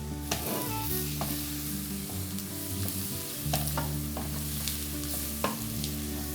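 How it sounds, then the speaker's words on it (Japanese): Flour is stirred in a frying pan for a scallop and mussel chowder, sizzling steadily with scraping spoon strokes against the pan, close and continuous without talk. "とろみがつくように粉を振り入れ、さあこの粉気がなくなるまで炒めていきます"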